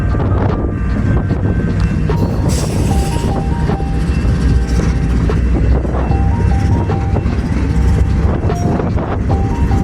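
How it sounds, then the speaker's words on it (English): BNSF 1446, a Burlington Northern SD60M locomotive still in original colors, rolls past a yard crossing in central Kansas with a loud, continuous rumble, wind buffeting the microphone, and a faint stepping warning tone throughout. "it was BNSF 1446, a Burlington Northern SD60M, still in its original colors"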